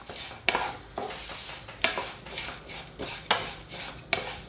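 Vermicelli roasting in a pan for Kerala semiya payasam, stirred with a metal spoon that scrapes and clinks against the pan about once a second over a soft dry sizzle.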